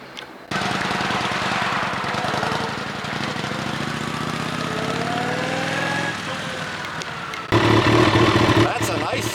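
A Yamaha RD350 two-stroke motorcycle engine runs close by with a steady, buzzy drone, rising and falling slightly in pitch, and a louder rev near the end; people talk over it.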